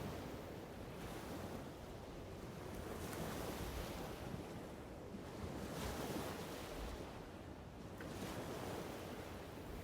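Ocean waves rolling in steady, broad surges of surf with wind noise, a continuous washing roar that swells and fades gently over several seconds, heard alone without voices.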